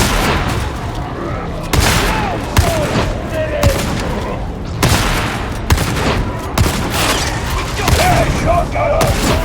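Shotgun blasts in the game Warhammer 40,000: Darktide, played as an Arbites on The Torrent map: loud, dense gunfire with repeated heavy booms amid continuous combat noise and shouted in-game voices.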